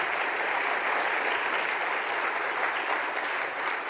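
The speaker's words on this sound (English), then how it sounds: "Let's give a big round of applause to our panelists." An audience at a conference panel session claps for the panelists, steady, full-bodied applause that carries evenly from start to finish with no break and no voices heard over it.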